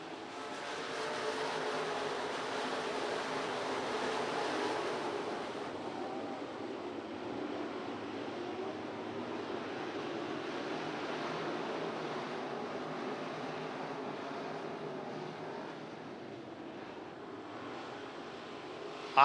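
A field of 24 USRA B-Mod dirt-track race cars rolls off for a 25-lap feature, engines a distant, broad roar that swells and holds steady across the whole stretch with no voices.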